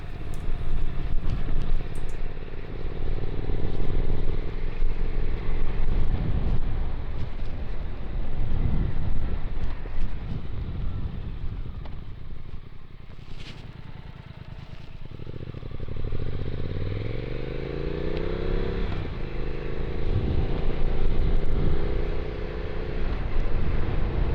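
A Triumph Speed Twin 1200 twin-cylinder motorcycle engine runs steadily under wind buffeting, with rising and falling pitch as it accelerates and shifts through gears.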